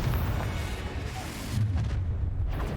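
A Confringo fire spell explodes in the video game Hogwarts Legacy, a loud, dense, rumbling blast that swells again midway through with heavy low-end boom, with no talk.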